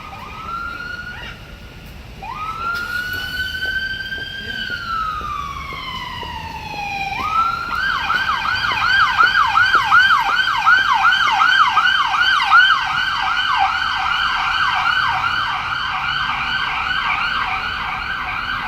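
An emergency vehicle siren sounds in downtown Naperville traffic, first in long rising and falling wails, then in a rapid yelping pattern. It is loud and sustained over faint road noise.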